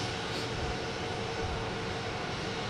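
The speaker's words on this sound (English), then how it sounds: "Get JetBlue coming in from Houston. An A220." A JetBlue Airbus A220 arriving from Houston at Boston Logan Airport, a steady broad roar of jet engines filling the air, constant and fairly loud, with no talking.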